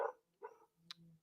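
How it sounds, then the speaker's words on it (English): A dog barks at a delivery, a few short, fairly faint woofs spaced about half a second apart, heard from a distance in an otherwise quiet room. "So I literally heard my dog barking."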